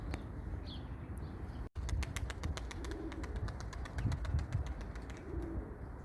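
Pigeons coo softly amid a busy outdoor background, with rapid fluttering of wings and faint chirps; no one speaks.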